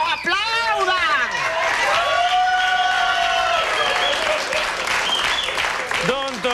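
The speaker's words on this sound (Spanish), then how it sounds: "Aplaudan, degenerado, aplaudan." A studio audience applauds and cheers on a comedy show while loud, exaggerated vocal exclamations ring out over the clapping throughout.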